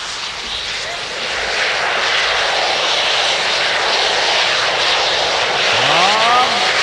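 A Thai bamboo rocket (bang fai) launches at a rocket festival in Kalasin with a loud, steady roaring rush that builds and holds. Faint crowd sounds and a brief whistle-like sweep appear near the end.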